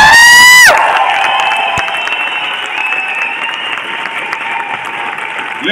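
Loud applause and cheering from a leadership event audience welcoming a speaker, a roaring crowd with whoops and shouts that rises sharply after a brief shrill tone, then sustains strongly.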